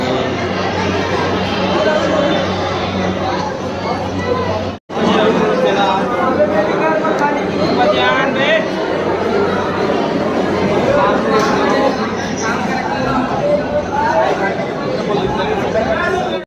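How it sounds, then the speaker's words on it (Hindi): Dense crowd chatter at the ticket gate of Chandra Talkies cinema in Bhilai on a housefull day, a continuous babble of many voices close around, with one person talking over it and a brief dropout midway. "यार देखो कैसे ज़्यादा भीड़ है, अभी गेट के पास अब टिकट कटा रहे हैं"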